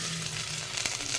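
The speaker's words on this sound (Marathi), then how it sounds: "गंजामध्ये आपण 2 पळी तेल घातलेलं आहे. त्याच्यामध्ये आपण थोडीशी मोहरी टाकणार आहे आणि आता कांदा टाकणार आहे." Onion dropping into hot oil with mustard seeds in a cooking pot, a steady close sizzle with a small clatter partway through.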